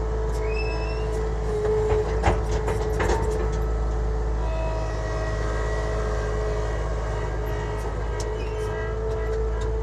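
An Avant compact loader on a construction site runs with its engine revved up to a higher RPM, giving a steady, loud low drone with a few faint clicks and rattles over it.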